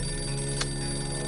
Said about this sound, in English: I know that ringing. That's the phone call for the twins.